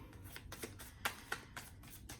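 Tarot cards being riffled and shuffled by hand during a romance reading, a run of quick papery bursts about every quarter second with two sharper snaps, close and fairly quiet, no talking.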